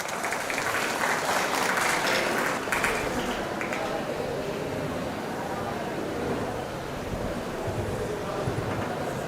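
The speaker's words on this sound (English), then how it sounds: "rofessor Shweta Yadav, Faculty of Animation, with a big round of applause." Loud applause from a large audience, strongest in the first few seconds then settling into a sustained, slightly softer clapping that continues throughout.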